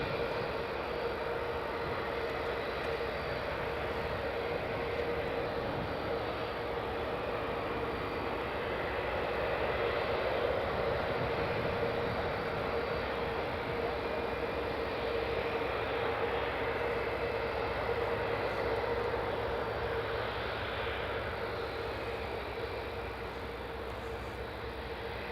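SAUDIA Airlines Boeing 777 taxiing in at Newcastle Airport, a steady distant jet engine whine and rumble, continuous and fairly faint, with no talking.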